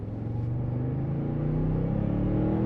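A 2023 Toyota Sequoia Platinum Hybrid accelerating hard in Sport Plus mode, its engine a steady, loud low rumble with rising harmonic tones, heard close from inside the cabin with no talking.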